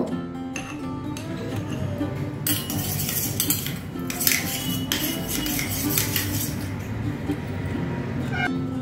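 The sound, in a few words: stirring yogurt with mustard-rinsed water in a bowl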